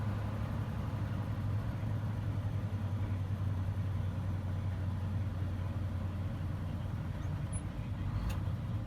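A farm truck loaded with soybeans pulls into a building, its engine holding a low, steady idling hum with a constant droning tone and an even level throughout.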